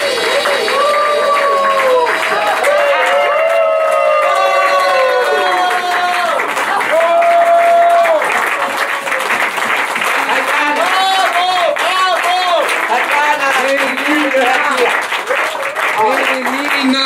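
Big applause and cheering from a theatre audience at a stage talk show, dense sustained clapping with voices and tonal calls layered over it throughout.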